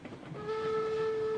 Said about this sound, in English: Warning whistle.